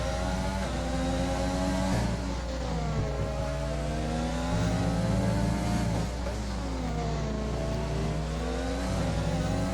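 Race cars in a racing video game, a night race at Abu Dhabi, roar continuously, with engine pitch rising and falling as the cars accelerate, shift and slide through corners.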